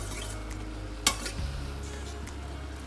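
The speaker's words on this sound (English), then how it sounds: "making sure I stir up my pot of ingredients" A spoon stirs a pot of broccoli soup ingredients, with one sharp clink against the pot and a few scraping strokes over a gentle background sizzle.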